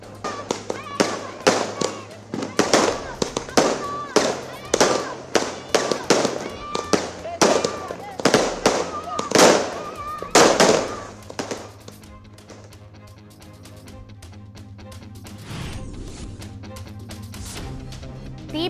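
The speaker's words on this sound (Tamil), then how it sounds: "புத்தாடை அணிந்து பட்டாசு வெடித்து தீபாவளியை கொண்டாடிய மக்கள் வண்ண வண்ண மத்தாப்புகளை கொளுத்தி" Fireworks and firecrackers burst in a rapid, loud string during Diwali celebrations in Tamil Nadu, the sharp cracks tapering off into scattered pops and crowd noise toward the end.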